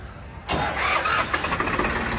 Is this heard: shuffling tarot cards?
no